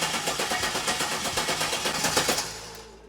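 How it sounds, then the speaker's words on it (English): A 5.3 V8 cranking over on the starter with its fuel pump relay pulled, priming a new oil pump; steady rhythmic chugging pulses, close and loud, that never catch and fire, ending in a brief tail. "just gonna go ahead and prime that oil pump"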